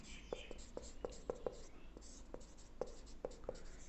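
Writing on a board during a class-10 maths lesson on linear equations in two variables, heard as short scratchy strokes and sharp taps in an irregular rhythm, close, over a faint hiss.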